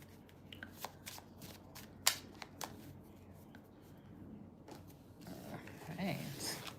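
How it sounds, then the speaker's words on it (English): Tarot cards are handled and shuffled quietly up close, a scatter of soft clicks and flicks at irregular intervals followed by a brief rustling burst, faint overall with light background noise. "All right, Amber, we got to go finish this other deck to shuffle"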